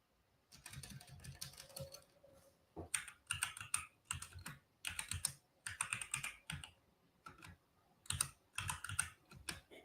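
Steady typing on a computer keyboard at a desk, bursts of quick clicking keystrokes separated by short pauses, close and fairly quiet with no talking.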